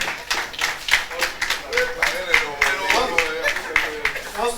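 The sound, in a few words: audience applause for guest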